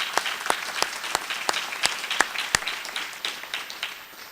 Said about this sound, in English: How about a round of applause for those guys?